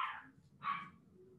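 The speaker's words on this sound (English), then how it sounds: "I don't know if you can hear my dog yapping in the background" A dog yapping in the background, two short sharp barks about half a second apart, faint and distant.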